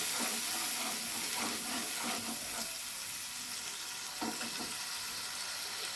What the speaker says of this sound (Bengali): এবার এতে জলটা আমি দিয়ে দিলাম।